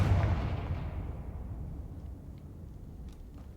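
A Confringo fire spell blast in Hogwarts Legacy goes off with a heavy, booming burst that rumbles and slowly fades into a low tail, with faint clicks toward the end.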